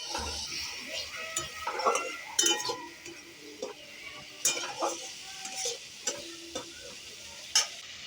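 Spice paste fries in a pan with soft sizzling while a utensil stirs and scrapes in uneven bursts, clinking against the metal now and then, close up.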